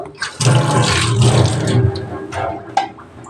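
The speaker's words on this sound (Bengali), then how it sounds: "মটরটা ধুয়ে নেব, ধুয়ে আজকে ঘুগনি করব" Soaked peas being washed in water, a close, full rush of running and sloshing water that fills most of the moment, then thins out with a few splashy knocks near the end, no voices.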